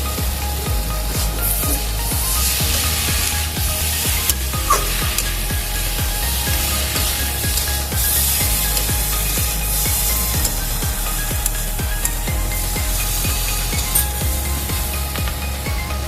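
Small fish sautéed with spices and ginger paste for a traditional Bengali chochchori: a steady, close, dense sizzle runs throughout, with soft scraping and stirring knocks from a spatula in the pan.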